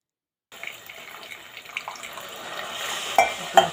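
Grated coconut, cardamom and melted jaggery water being stirred together in a bowl as filling for ilayada leaf parcels: close, wet stirring and scraping after a brief silence, with a couple of sharper clinks near the end and no talking.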